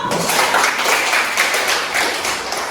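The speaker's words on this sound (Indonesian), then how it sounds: "Kita beri tepuk tangan dulu." A classroom of students breaks into dense, steady applause, many hands clapping together at once, close and sustained for a few seconds.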